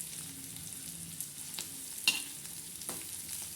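Bitter gourd frying with curry leaves in a pan, a faint steady sizzle broken by a few soft taps and scrapes of a spatula, without any voices.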